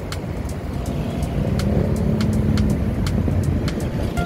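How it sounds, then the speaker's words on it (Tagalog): Steady road traffic rumbling nearby on EDSA and C5 in Manila, heard from a motorcycle, a continuous low engine drone with occasional clicks and rattles over it. "Traffic."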